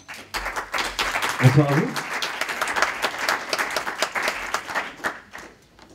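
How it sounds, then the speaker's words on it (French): Audience applause at the opening of a French evening event as the guest speakers are introduced, steady dense clapping lasting several seconds with a voice speaking briefly over it. "vous pouvez les applaudir"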